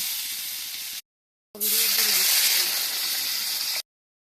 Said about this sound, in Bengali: দেখো মাছের সবজিটা ভালো করে কষিয়ে এখন জল দিয়ে দেব।